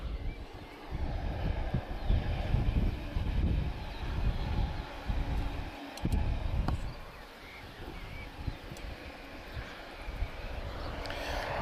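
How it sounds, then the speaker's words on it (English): Strong wind buffets an outdoor spot beside Lisbon Airport, a loud, continuous low roar with gusts rising and falling throughout. "Welcome to a windy Lisbon."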